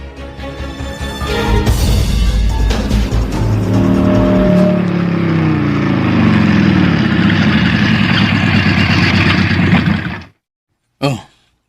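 A motor engine runs close by for about ten seconds, starting as a steady drone and then revving with a falling, then rising, pitch. A sudden cut follows, and after a short silence comes one brief burst of noise.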